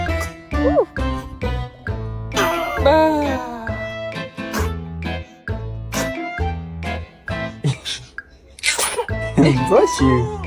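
A baby sneezes amid background music with a bright tinkling tune, the short bursts loud and close, with an adult voice speaking around them.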